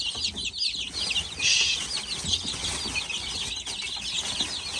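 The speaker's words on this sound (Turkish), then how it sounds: "burada civcivlerimiz var" Busy chicks cheeping in high, overlapping peeps, with a brief flutter of wings and soft rustling, no voices.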